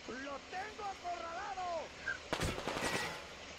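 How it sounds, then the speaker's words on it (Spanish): A voice speaks first, then a quick burst of several sharp gunshots cracks out in rapid succession in Metro Exodus. "¿Dónde vienen los disparos?"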